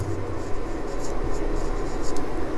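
Chalk or marker scratching out an equation on a board during a class, soft rhythmic strokes close by over a constant room hiss.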